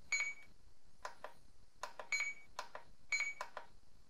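A FrSky Taranis radio transmitter's timer sounds faint, high electronic beeps in quick clustered bursts that repeat at a steady rhythm about once a second, with no talking.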